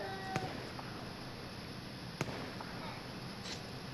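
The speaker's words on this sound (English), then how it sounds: "hear gunshots?" Two sharp, distant gunshot cracks in Call of Duty: Modern Warfare's Warzone stand out over a steady hiss of game background noise, spaced about two seconds apart.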